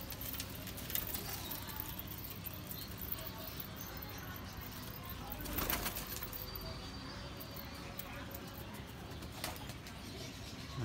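Teddy pigeons, top-class breeder birds, coo softly and intermittently against a steady hum of background noise, with faint voices now and then.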